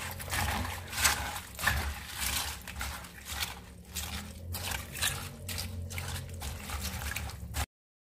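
Water poured into cabbage while making pickled cabbage, a soft continuous liquid trickle and splash with irregular sloshing pulses, close and fairly quiet, ending abruptly.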